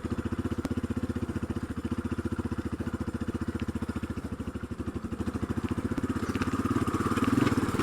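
A four-wheeler ATV engine crawls slowly up a trail in low gear, a steady close-up mechanical throb with rapid regular firing pulses that swells slightly near the end.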